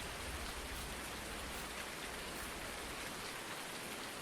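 Steady rain falling across a farm in Farming Simulator 19, a dense, even hiss of drops on surfaces that stays constant throughout with no voices.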